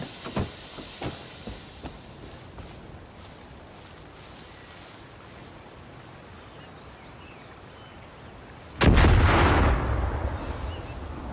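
A vehicle blows up in Far Cry New Dawn, a sudden loud explosive blast near the end that cuts in after a stretch of low rumbling, with a few sharp cracks early on and a roaring tail that trails off.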